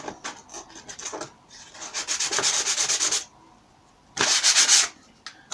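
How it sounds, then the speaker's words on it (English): Close, rasping strokes of sandpaper work the edge of a 20mm plastic cover strip for Stormtrooper armor, coming in bursts of rapid back-and-forth rubbing separated by short pauses. "We don't want bits standing up, sticking out, and sand the edge a little bit."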